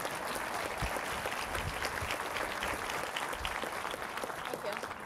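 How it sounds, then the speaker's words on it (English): An audience claps for a flag during a live talk, a continuous mass of applause with scattered louder hand claps and a faint murmur of voices beneath. "an applause to the Swedish flag"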